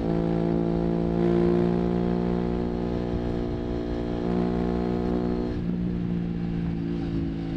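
An Aprilia RS 660 Extrema motorcycle engine holds a loud, steady buzzing drone up close, its pitch dropping abruptly partway through as if shifting.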